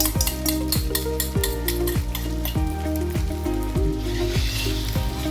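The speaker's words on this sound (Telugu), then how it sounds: "ముందుగా కలిపి పెట్టుకున్న ఎగ్స్ అయితే ఇక ఈ విధంగా ఆయిల్లో పోసేద్దాం" Beaten eggs hit hot oil for basmati egg fried rice, giving a loud, continuous frying hiss and crackle under prominent background music, with no talking.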